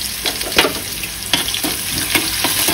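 Onion and garlic frying in a pan while homemade sambhar masala is being cooked, giving a steady close sizzle with occasional soft stirring scrapes and no talk.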